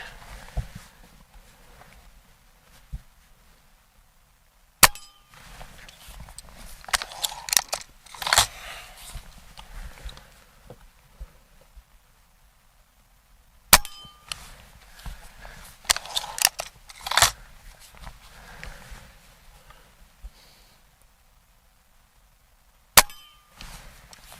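A Crosman MAG-Fire .22 air rifle fires three sharp, loud, isolated shots spaced several seconds apart, with handling clicks, rustling and cocking noises in between.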